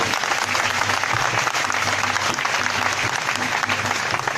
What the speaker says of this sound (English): a round of applause for these children once again